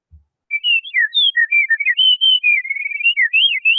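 A long, wavering run of whistled bird-call notes, played back an octave lower and slowed, rising and falling continuously without pause.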